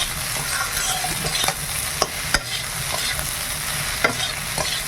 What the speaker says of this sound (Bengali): সব কিছু ভালো করে ভেজে নিয়েছি।